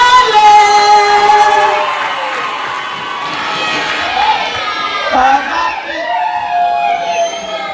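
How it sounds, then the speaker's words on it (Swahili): Outdoor crowd of young people cheering and shouting, a loud sustained roar with rising whoops and high cries layered over it, swelling and dipping without pause. "Jamani, shangilieni kwanza, makofi yanatosha, makofi mengi, makofi. Piga kelele."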